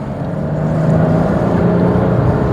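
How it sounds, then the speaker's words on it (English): A Chrysler 300C on the road gives a loud, continuous low tyre rumble with a faint steady hum on top, heard from inside the cabin without talk. "there's an awful lot of tyre noise, which is exactly what I would have expected"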